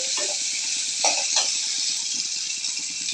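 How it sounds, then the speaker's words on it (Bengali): Onions frying in oil in a pan crackle and sizzle steadily while being stirred, with a few louder scrapes of the spoon against the pan, heard up close and alone. "নাড়া হচ্ছে"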